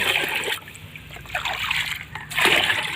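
Canal water scooped into a bucket while fertilizing eggplant, giving close splashing and sloshing bursts at the start and end with quieter trickling between.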